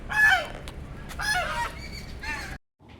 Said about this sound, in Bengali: জাস্ট রুম থেকে বেরিয়েই এই হাঁসগুলোর আওয়াজ মনকে একদম শান্ত করে দিচ্ছে